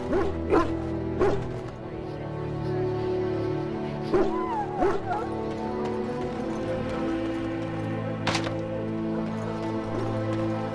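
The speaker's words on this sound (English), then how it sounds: "Half the dogs are sick from darkspawn blood." Sick hounds whimper and bark in a kennel in the video game Dragon Age Origins: scattered yelps and short whines sit over a steady low drone of background music, with one sharp burst near the end.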